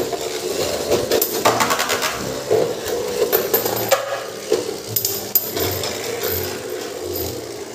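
Metal Beyblade spinning tops, a DB Beyblade against a Glide Ragnaruk, battle in an arena with a steady scraping whir and repeated clacks as they collide, close and fairly loud, with no talking.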